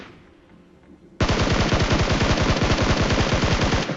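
Sustained rapid automatic gunfire from a video game, knocking down enemies, starting abruptly after a quiet moment and continuing as a loud, dense burst of evenly spaced shots to the end.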